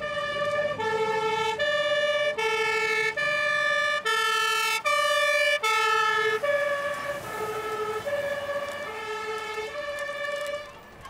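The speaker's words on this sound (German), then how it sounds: "Kurz darauf war das Martinshorn des Löschfahrzeugs zu hören." Two-tone Martinshorn siren of a fire engine during a fire brigade exercise, alternating high and low in a steady repeating pattern. It sounds fairly distant, with no talk, and fades slightly toward the end.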